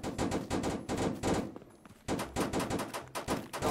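A Draco gun with a drum magazine fires in Roblox, rapid bursts of loud, close automatic shots with a short pause in the middle before the firing resumes.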